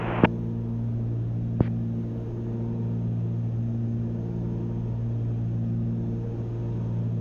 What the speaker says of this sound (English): Props sound pretty sick to me.